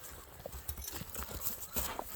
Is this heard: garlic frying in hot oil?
no